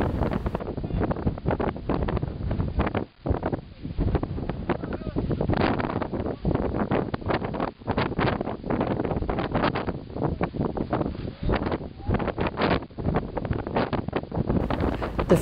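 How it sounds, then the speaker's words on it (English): Strong freezing wind buffets the microphone at the summit of Mount Kilimanjaro, a loud continuous roar with gusty surges throughout, and faint voices at times beneath it. "The freezing wind was blowing"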